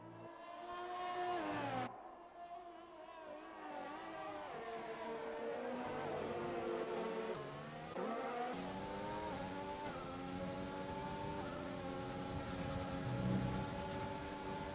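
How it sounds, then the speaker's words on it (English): Race cars drone steadily around a track in a racing video game, engine pitch rising and falling through gear changes as cars pass, with one car's tone dominant and others layered beneath, continuous for the whole stretch. "All the cars trundling around in the middle sector."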